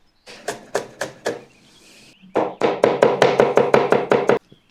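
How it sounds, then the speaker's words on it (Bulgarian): Knife chopping onion and carrots on a board: a short run of four sharp chops, a pause, then a fast, steady burst of about a dozen crisp, close, loud strikes with no talking. "Ще си нарежа лука и морковките."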